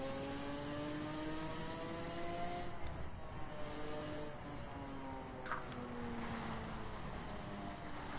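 A car engine in a driving video game hums and revs at a steady pitch, rising slowly over a continuous whooshing background, with no talk.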